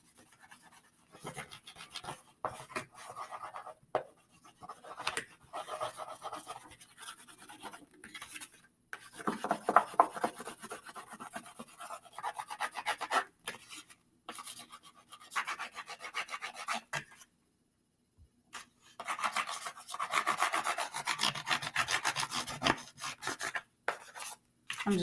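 A paper plate is colored green with quick, scratchy rubbing strokes, close and faint, coming in irregular bursts separated by short pauses.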